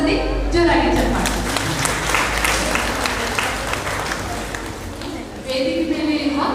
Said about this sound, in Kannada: ಅವರೆಲ್ಲರಿಗೆ ಕೂಡ ಒಂದ್ಸತಿ ಜೋರಾಗಿ ಚಪ್ಪಾಳೆ